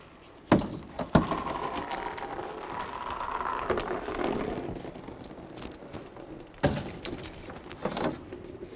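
Windshield washer fluid drains from the pump reservoir of a 2003-2008 Toyota Matrix into a basin, a steady trickling splash with a few sharp knocks and clicks from handling parts, no talking.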